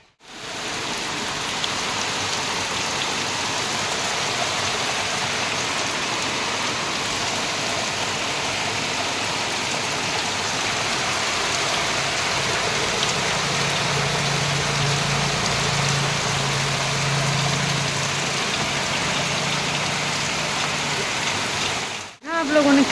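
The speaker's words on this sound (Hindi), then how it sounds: "कितनी तेज़ बारिश हो रही है भगवान" Heavy rain pours down steadily on a village as a dense, loud hiss that holds for about twenty seconds, with a low rumble partway through before it cuts off.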